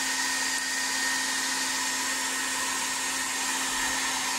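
A hair dryer blows steadily on fresh paint on a custom-repainted McFarlane Batman Dark Knight toy figure, a loud continuous whir with a constant hum and no pauses, heard alone without talk.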